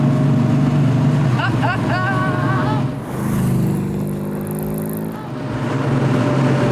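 An MGB with a custom-built V8 engine accelerating, a loud continuous engine drone with wind noise and a shift in pitch midway, while people talk over it throughout.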